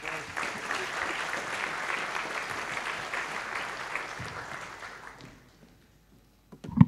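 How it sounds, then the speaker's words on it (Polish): A lecture-hall audience in Poznań applauds to welcome a visiting blogger, full dense clapping that fades out after about five seconds into near silence before a brief knock or handling noise. "Brawa!"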